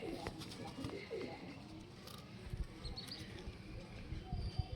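A Panjabi pigeon cooing softly in a few low, burbling phrases, heard at close range and quiet, with some light scuffling and background noise around it.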